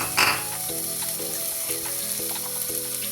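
Peas go into masala rice frying in a pan, giving a steady, close sizzle with a short splash of added ingredients near the start and a faint stirring rhythm beneath.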